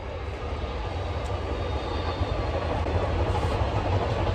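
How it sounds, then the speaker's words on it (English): A train rumbles past steadily through the whole stretch, a dense low roar with faint wheel noise, continuous and fairly close, with no talk over it. "train's going by"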